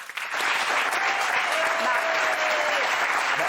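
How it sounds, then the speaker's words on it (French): Studio audience applauding on a French television talk show, a dense, steady wash of many hands clapping close and loud throughout, with a faint voice briefly audible underneath. "Vous applaudissez quoi?"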